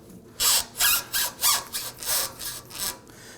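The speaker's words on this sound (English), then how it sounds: "Tighten down your clamp." A hose clamp is tightened onto a fuel tank on a 2005-2009 Subaru Legacy 2.5L H4, heard as about eight rhythmic ratcheting, rasping strokes, close and fairly loud, with no speech.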